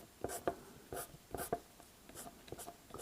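An eraser rubs back and forth on airbrush paper, giving quiet, close scrubbing strokes in a steady rhythm of about two per second.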